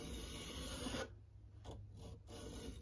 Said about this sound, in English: as we're moving our file across this edge of the scraper